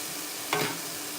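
A brief burst of sizzling and scraping as food is stirred in a hot pan, rising for a moment before settling back to a quiet hiss.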